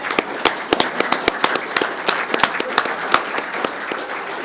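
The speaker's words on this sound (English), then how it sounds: "let's give a round of applause to John" A crowd at an exhibition opening reception claps steadily, with sharp individual claps standing out in an irregular, lively patter throughout.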